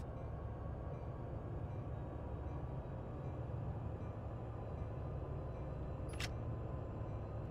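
Steady low rumble of a train in Train Sim World 5 as it begins to move, continuous and moderately quiet, with a brief high mechanical squeak near the end.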